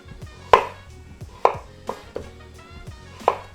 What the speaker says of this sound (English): Cutting the potato into strips, similar theory as with the carrots,